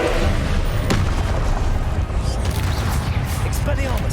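Confringo fire spell going off in Hogwarts Legacy, a dense continuous rumbling explosion with a sharp crack near the start, loud and close, with voices mixed in.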